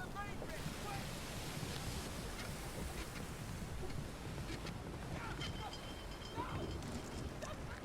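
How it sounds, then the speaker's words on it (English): Steady wind rushes and buffets continuously in the game Return of the Obra Dinn, a broad, fairly quiet roar with faint scattered clicks over it. "It's so goddamn windy sometimes."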